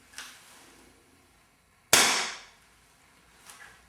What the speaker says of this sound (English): fire the rifle off in a safe direction.